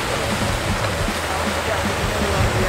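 Wind-driven sea waves wash against a windy seashore at Pulau 1000, a loud, dense roar of surf and gusts that fills the whole stretch without a break.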